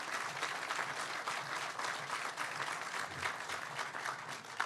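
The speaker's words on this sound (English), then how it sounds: "So if we could clap for David." A crowd applauds at a family plaza dedication, dense, even clapping from many hands heard at a moderate distance, continuous and fairly faint, with no one speaking over it.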